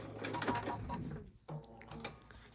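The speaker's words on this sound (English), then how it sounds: "I'm back at the beginning, so I'm gonna back stitch a little" A sewing machine back-stitches the binding on a small fabric oven mitt, a quiet, rapid mechanical whirr that stops briefly and then resumes for a short burst.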